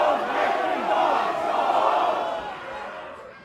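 A packed crowd at a metal concert in a London club roars back at the band in one sustained, loud collective shout that swells and then fades over a few seconds.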